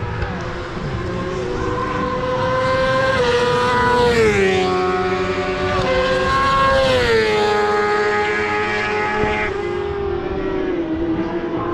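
A loud Kawasaki Ninja ZX10R track motorcycle with a titanium exhaust roars and revs, pitch rising and falling as the engine accelerates and passes close by.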